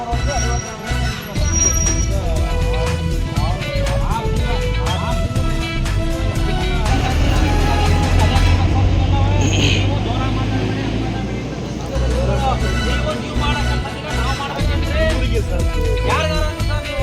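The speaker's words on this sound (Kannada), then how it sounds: "10 ವೀಲು, 12 ವೀಲು, 6 ವೀಲ್ ಎಲ್ಲ ಓಡ್ತಾವ" Heavy trucks and lorries, including white-stone lorries, roll along the Gundlupet national highway, making a dense, continuous roar and rumble of passing engines with voices talking over it.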